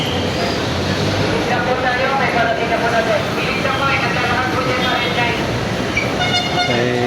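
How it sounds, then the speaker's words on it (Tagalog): An LRT train rumbles into Carriedo station, a loud continuous rolling roar with metallic squeals, amid a busy crowd and voices. "parating na po ang LRT"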